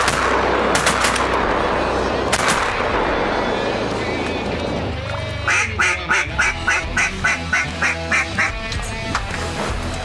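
Shotgun blasts during a cold-weather duck hunt over icy water: two sharp, loud shots ring out early, then a steady run of rhythmic duck quacks follows, with an outdoor rumble underneath.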